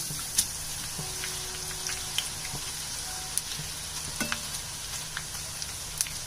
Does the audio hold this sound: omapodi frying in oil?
yes